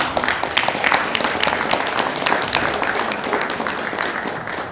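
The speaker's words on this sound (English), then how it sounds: "Can you please give them a hand clap?" Audience claps for participants at the close of a community gathering of Liberians, a moderately loud patter of hands with some distinct sharp claps standing out, continuing throughout without speech.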